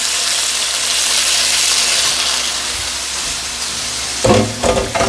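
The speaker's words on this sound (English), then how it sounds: "That smells amazing just hitting that pan." Pork chops sizzle steadily in a hot pan, a loud continuous frying hiss that rises and crackles, with a few sharper spits near the end and no talking.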